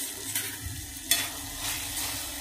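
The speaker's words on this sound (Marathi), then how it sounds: "हरभऱ्याची उसळ तेल सुटेपर्यंत छानपैकी परतून घ्यायची 1-2 मिनिटं" Boiled chickpeas for a dry usal being stirred and sautéed in hot oil in a pan, giving a quiet, steady sizzle broken by soft scraping strokes of the spoon.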